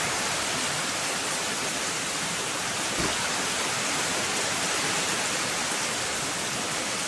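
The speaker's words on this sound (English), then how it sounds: "It is just pouring rain." Heavy rain pours down steadily over a garden, a dense, unbroken hiss of downpour that stays loud and even throughout with no voices.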